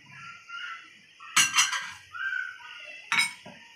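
Metal utensils clink against a cooking pot as tomatoes go in on top of chopped onions for a mutton handi curry, with two sharp clattering bursts over low kitchen background.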